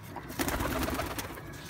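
Breed pigeons kept for sale coo softly in a brief, faint burst of low, rolling calls with some background rustle.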